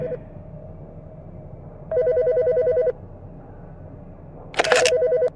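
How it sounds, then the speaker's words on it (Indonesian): Cartoon telephone ringing in a spooky animated office at night, two clear bursts of repeated electronic rings separated by a pause, the second joined by a brief loud rattle. "Telepon."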